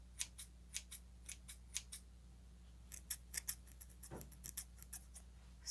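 Craft scissors snipping through hair, a close series of crisp, quick cuts in irregular bursts, with a short pause partway through and a faint background hum.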